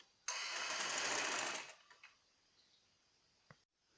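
A sewing machine stitches fabric for a baby frock in a single steady whirring run of about a second and a half, up close. It stops, and a few light clicks follow.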